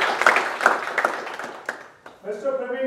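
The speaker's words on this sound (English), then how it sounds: "Please put your hands together to applaud the achievement of the aim of this talk by Toastmaster Praveen Jha." An audience at a Toastmasters speech contest claps for about two seconds, a brief scatter of hand claps that fades out before a voice begins speaking.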